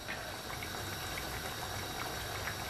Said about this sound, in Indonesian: Kita masak pakai api kecil ya, sampai nanti ini jengkolnya ini menyerap bumbu dan bumbunya ini mengental.